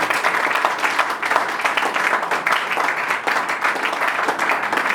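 A church congregation applauding, a dense, continuous wash of many hands clapping together at a steady level, filling the room without pause.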